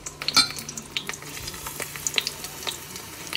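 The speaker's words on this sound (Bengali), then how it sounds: "আজ আমি ঘি দিয়ে কুমড়ো ফুল ভাজা করব" Battered pumpkin flowers fry in ghee, giving a soft, crackling sizzle with frequent small pops and spits, close but fairly quiet, with no talk.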